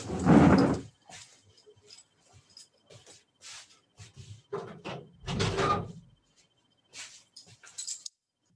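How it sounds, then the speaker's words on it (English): A door is closed indoors, giving one loud thump at the start, followed by scattered quieter knocks and rattles in an otherwise quiet room, with no talking. "let me just close the door here"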